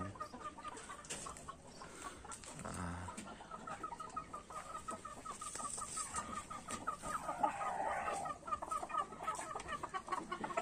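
A flock of chickens clucks and murmurs continuously at moderate distance, with occasional louder calls rising from the steady barnyard chatter.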